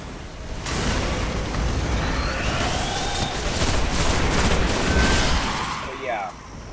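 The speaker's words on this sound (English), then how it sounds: "Grenade up there" A grenade exploding in the video game Destiny, producing a loud, sustained rumbling blast with crackling debris that fades out near the end, with no talk over it.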